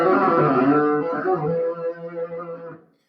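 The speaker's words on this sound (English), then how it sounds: "a really good example of a legato run would sound something like this" Electric guitar playing a fast left-hand legato run, with hammered and pulled notes flowing together through a distorted, effected tone; about three seconds of continuous melodic notes played alone, then fading out.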